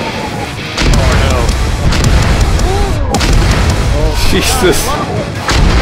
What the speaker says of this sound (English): What is our artillery budget this month?